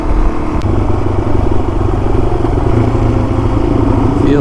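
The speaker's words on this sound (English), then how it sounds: "Feels good to be on the DRZ again." A Suzuki DRZ motorcycle with a clone FCR39 carburettor cruises on back roads. Its engine drones loud and steady under heavy wind rush, close to the rider, with no clear revving changes.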